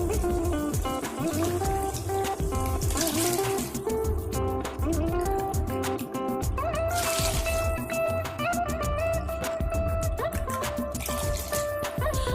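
Water pours and trickles into a pot of Bengaluru-style nati chicken pulao, a steady liquid splashing that carries on under continuous loud background music.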